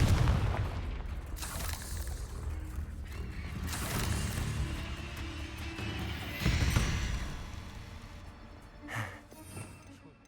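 Repeated Confringo spell explosions in a video game fight against spiders and a dragon: several loud booming bursts with rumbling tails, spread across the clip at uneven intervals.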